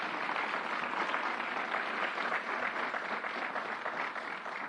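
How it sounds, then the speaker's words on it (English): Audience applauding Carol Mason at a public gun violence emergency event, a steady, moderately loud spread of clapping from a crowd lasting several seconds without speech. "Let's give Carol Mason a round of applause."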